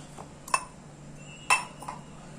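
Metal spoon clinking against a bowl while bonda batter is mixed, with a few sharp clinks spaced apart, quiet in a home kitchen.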